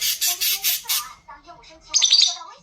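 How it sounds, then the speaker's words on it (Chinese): An angry hairless pet parrot gives shrill, harsh screeches: a rapid run of four or five loud squawks, a pause with faint chatter, then a second burst of raspy cries, close and loud. "声音尖锐刺耳，当鹦鹉生气或感受到威胁的时候发出。"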